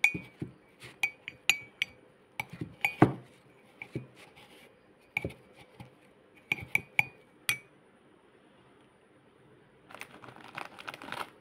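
Eight to ten raw almonds dropped one by one into a glass holding a date, coffee and milk mix, each landing as a sharp clink in an irregular sequence, followed by softer rustling.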